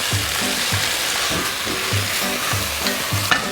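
Rice goes into a hot pan of oil with methi and salt and sizzles loudly and steadily while being stirred, with a repeating scraping rhythm of stirring strokes. It is close, and no one talks.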